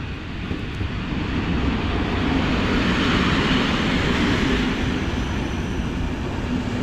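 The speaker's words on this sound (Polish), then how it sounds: "Ekstra tym bardziej, że jest stara lokomotywa." A passenger train hauled by an old locomotive at Warszawa Wschodnia station, producing a loud, steady broadband rumble and rushing roar that holds constant throughout without pause.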